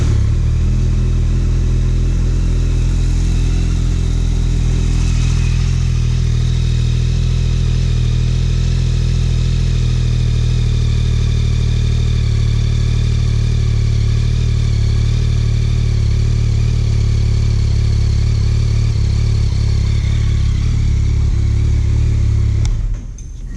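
A 2026 Yamaha XSR900 motorcycle engine idles steadily and loudly after starting, a continuous close mechanical drone that cuts off near the end.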